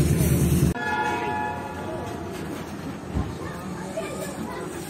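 A passenger train sounds its horn at Dera Nawab Sahib station near Bahawalpur, Pakistan. Steady sustained horn tones ring out over busy platform noise and murmuring voices, with a brief thump midway.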